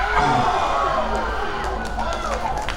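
Crowd at a ladies' IPT 2021 netball playoff between Northern Blues and KZN Raiders, cheering and crying out in a steady, dense wash of noise over commentary.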